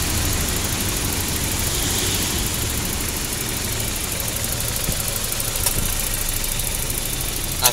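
A Volvo 960's engine idles steadily, a continuous low mechanical drone with a slight knocking texture and an even level throughout, heard close by with no one speaking.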